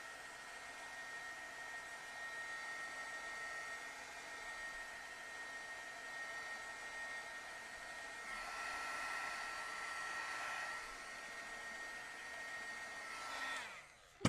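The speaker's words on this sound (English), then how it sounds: "I'm going to take my heat tool" A heat tool blows hot air to dry watercolor paint, a steady close whirring drone that holds for about thirteen seconds, shifts slightly in tone partway through, then cuts off.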